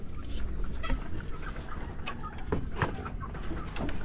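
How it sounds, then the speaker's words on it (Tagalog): Chickens on a Filipino family farm cluck and murmur in a continuous, nearby flock chatter, with scattered sharper calls standing out over a busy outdoor background. "Ayan yung mga manok natin."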